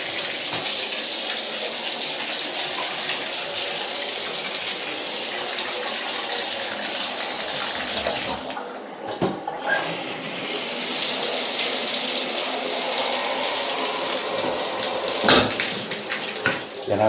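Water gushing from a tap and shower head in a house's bathroom, a steady close rush that dips briefly partway through and then resumes at full strength.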